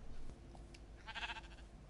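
Sheep bleating in the Minecraft video game, a short wavering bleat rising mid-clip over a low game background hum.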